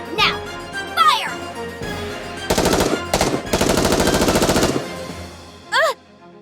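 Bursts of rapid automatic gunfire from a NIKKE Goddess of Victory battle, loud and close, in several sustained volleys with brief gaps, mixed with game effects and whooshing sweeps.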